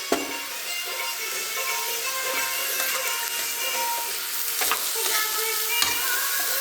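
Spicy potato rice masala being stirred in a pan, with a steady sizzle and scraping of the spoon running throughout, broken by a couple of sharper clinks against the pan.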